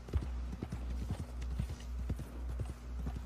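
Horse hooves clip-clop in a steady, quick rhythm as a horse travels in Red Dead Redemption 2 Online, faint and alone with no talk over them.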